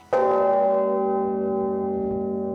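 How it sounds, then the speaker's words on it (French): A huge six-century-old bourdon bell weighing about eight tons at the Saint-Denis basilica strikes once, then rings out with a deep, sustained hum whose rich overtones fade only slowly. "l'unique cloche de Saint-Denis âgée de 6 siècles. Elle pèse environ 8 tonnes"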